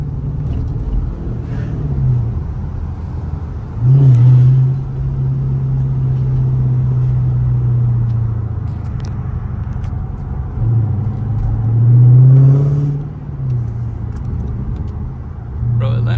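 A Dodge Charger drives through city streets, its steady low engine rumble and road noise continuous throughout, with brief louder surges around four and twelve seconds as it accelerates; someone talks intermittently over the car sound.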